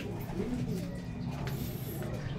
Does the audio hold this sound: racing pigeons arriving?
yes